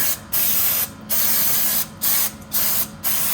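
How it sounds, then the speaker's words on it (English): Aerosol brake cleaner sprayed onto the brake pads of a Nissan 350Z, five loud hissing bursts of varying length with short breaks between them, close and alone. "what I do like to do is spray down those brake pads, any extra brake dust out of there"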